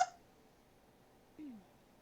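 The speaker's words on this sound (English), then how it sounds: "Hiccup." A single sharp hiccup breaks a quiet room during a tabletop roleplaying game session, followed about a second later by a softer, falling vocal sound, with faint room hum between.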